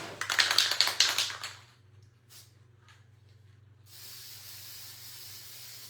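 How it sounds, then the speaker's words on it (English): A short burst of hissing from an aerosol sealant spray can lasts about a second and a half, sealing a painted tin can, followed by quiet and then a faint steady hiss. "I'm just going to do a quick spray."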